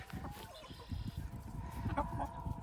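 Several chickens cluck and chatter busily nearby while eating, with low murmuring clucks and a few higher calls, no talking.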